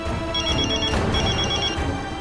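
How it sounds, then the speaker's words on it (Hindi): Telephone rings with a warbling electronic trill in two repeated bursts, fairly loud and alone over a faint room background. "फोन बज रहा है।"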